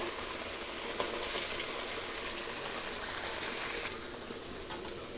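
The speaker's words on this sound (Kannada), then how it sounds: "ಡೀಪ್ ಫ್ರೈ ಚೆನ್ನಾಗಿ ಮಾಡ್ಕೋಬೇಕಾಗತ್ತೆ" Jackfruit kajjaya deep frying in hot oil, a steady close hissing sizzle that swells slightly louder toward the end, with a couple of faint ticks.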